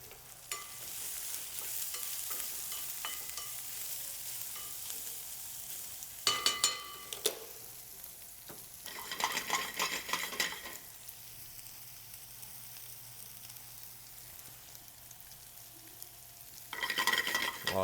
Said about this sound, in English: We're gonna wake all those flavors up in that hot oil.